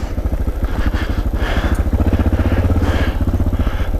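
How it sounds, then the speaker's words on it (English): Motorcycle engine braking on a downhill ride in the Rockies, a steady close pulsing engine note with rapid rhythmic firing and wind rush throughout. "So all I'm doing is helping the engine brake"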